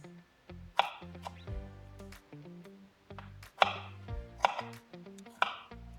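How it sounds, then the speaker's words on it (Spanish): Knife chopping strawberries on a cutting board, several crisp distinct cuts spaced irregularly, close and fairly quiet with no talking. "Bueno, acá corté las frutillas."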